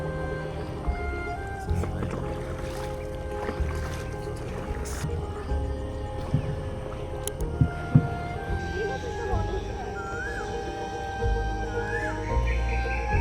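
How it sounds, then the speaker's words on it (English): A rowboat paddled by an oarsman through the Munroe Island backwaters in Kerala, with soft, intermittent splashes and drips of water under a quiet outdoor background and occasional high bird-like calls. "the rhythmic paddling of the oarsman"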